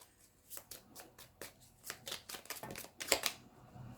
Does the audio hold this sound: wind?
no